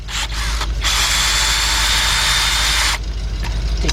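A 13 mm socket on a ratchet or power tool spins intake manifold bolts loose on a Chevy Traverse during a spark plug job, giving one steady, loud whirring burst of about two seconds with quieter clicks before and after.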